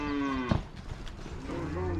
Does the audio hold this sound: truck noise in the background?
no